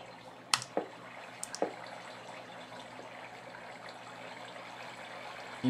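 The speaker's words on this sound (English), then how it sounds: "Oh, it is a waterfall, okay." A waterfall in the Minecraft video game rushes as a faint, steady wash of falling water inside a cave, broken by a few small clicks and taps near the start.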